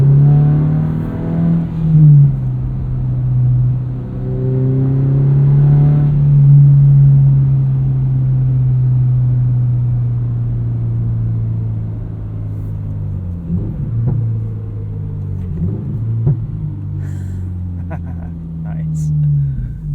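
A 2022 Subaru BRZ with an MRT street/race axle-back exhaust drones steadily at close range, its engine note rising and falling through downshifts, with a few brief pops and crackles near the end.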